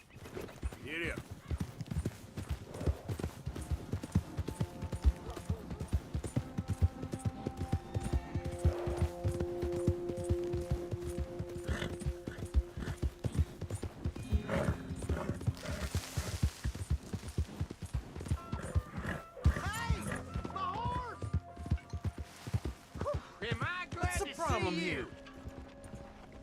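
A horse in Red Dead Redemption 2 gallops with steady, rapid clip-clop hoofbeats, joined by occasional neighs and distant gunshots, while characters talk over it.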